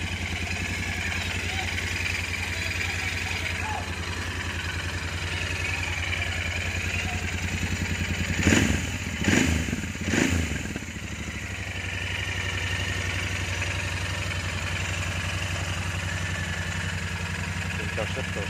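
A Royal Enfield Interceptor 650cc twin idles steadily up close with a low mechanical hum and faint clatter, briefly blipped a few times midway before settling back to idle as a voice talks over it.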